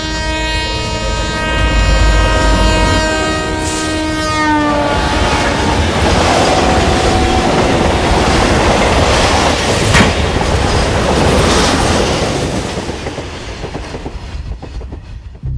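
A train passes close and loud, its horn blaring for several seconds before the rumbling, clattering roll of the carriages takes over and slowly fades at the end.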